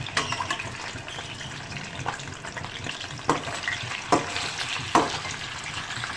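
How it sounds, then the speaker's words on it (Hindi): Chicken fries in very hot oil for a Delhi-style murgh chole, a continuous bubbling sizzle broken by several louder crackles and spatters as the pieces are stirred, close up with no talking. "चिकन फ्राई हो रही है"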